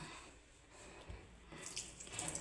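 Weak trickle of water from a kitchen tap, a thin steady flow that grows slightly brighter toward the end, heard close and alone with no talk.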